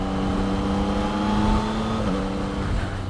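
A Yamaha MT-09 motorcycle engine pulling under acceleration, a loud, steady tonal drone with the pitch dipping briefly midway as with a quick shift, heard close from the rider's position.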